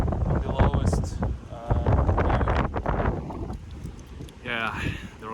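Strong headwind buffets the microphone of a cyclist climbing on gravel roads near Calgary. The rumbling gusts rise and fall, with heavy breathing or short vocal sounds partly over them.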